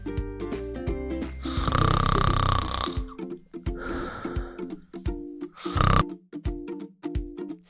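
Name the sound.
snoring during deep sleep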